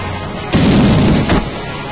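A grenade blast in the video game Valkyria Chronicles III lands as one loud, booming burst with a second thump close behind it, over a low game background and with no talking.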